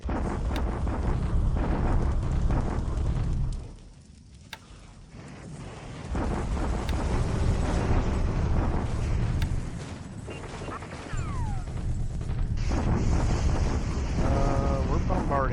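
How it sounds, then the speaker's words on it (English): Rumbling booms and blasts of a naval bombardment in the computer war game War in the Pacific, a dense, loud, continuous barrage that briefly drops away and then resumes, with a talking voice mixed in. "We're bombarding him."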